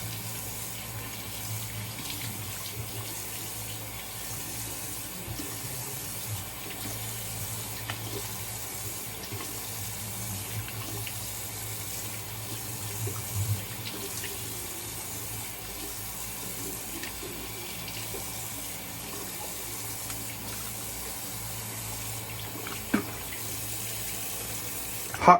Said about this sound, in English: let me rinse this off with some good cold water and kind of close these pores down